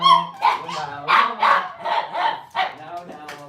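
Several pet dogs bark and yip excitedly in bursts, loud and close, with high whining yelps between the barks.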